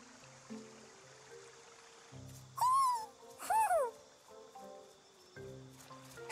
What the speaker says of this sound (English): Is that owl beckoning us over?